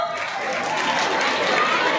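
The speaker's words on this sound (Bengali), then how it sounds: "তোমরা জোরে হাততালি দাও" An audience claps at an annual cultural program during the welcoming of guests, a brief, dense burst of applause that stays at an even level for about two seconds.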